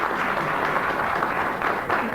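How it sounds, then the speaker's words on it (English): A studio audience applauds as a steady, moderate wash of clapping that holds evenly throughout without any voices over it. "the volume of your applause will determine this"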